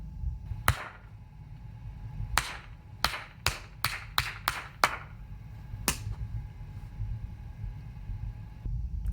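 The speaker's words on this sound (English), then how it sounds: "I'm just gonna clap it. It'll work." A single person claps out a rhythm exercise, about ten sharp, close hand claps in an uneven pattern with a quick cluster in the middle, over a low steady hum in a quiet room.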